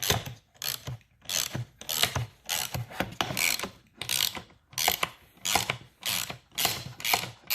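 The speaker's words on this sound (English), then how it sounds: "a 3/8 ratchet here with an M10 socket" A 3/8 ratchet with an M10 socket tightening flange nuts on a 2019 Husqvarna Svartpilen 401, giving rapid bursts of loud, close ratcheting clicks in repeated strokes with brief pauses between, no voices.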